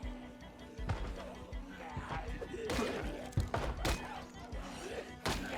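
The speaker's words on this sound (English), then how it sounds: "Let them bang on the windows for a little while." Zombies in the Project Zomboid video game bang on the mall windows in repeated dull thuds and knocks, irregular and close, over a busy game ambience.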